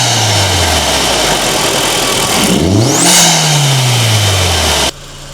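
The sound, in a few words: car engine revving, recorded next to the air filter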